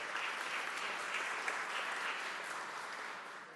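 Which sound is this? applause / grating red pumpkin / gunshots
applause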